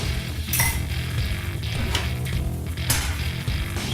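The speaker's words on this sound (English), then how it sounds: "Give it a little bit of a stir." Utensil scraping and clinking against a pan while egg omelette mixture is stirred, a continuous clatter with a few sharper metallic clinks over a steady background hum.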